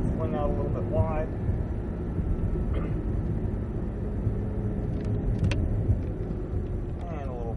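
A Cadillac V-Series race car on a track, its engine note rising under throttle and easing off as it coasts, steady and loud beneath continuous talking.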